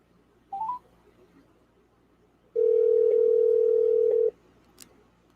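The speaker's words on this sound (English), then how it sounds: "We're calling Lori. I'm going to put her on speaker so we can all hear" A telephone call is placed on speakerphone: a short rising electronic blip, a pause, then a steady, loud dial-type tone holding for nearly two seconds before cutting off, with a faint click afterward.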